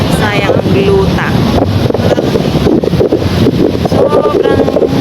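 Strong seaside wind roars steadily into the microphone at the beach, a loud unbroken buffeting rumble with no pauses.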